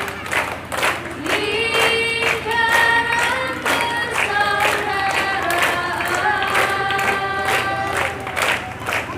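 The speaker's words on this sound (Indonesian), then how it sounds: "Kudu tepuk tangan dong." Rhythmic hand-clapping from a seated circle of people gathered around a campfire at an Islamic school's bonfire ceremony, steady beats over sung melodic voices, fairly loud and close.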